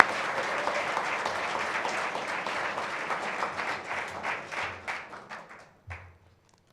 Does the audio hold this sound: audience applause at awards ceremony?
yes